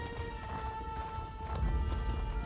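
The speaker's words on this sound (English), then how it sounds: "Get on horse, and away we go." Horse hooves clip-clop at a steady gallop in The Elder Scrolls Online, a continuous rhythmic pounding over game music and ambience.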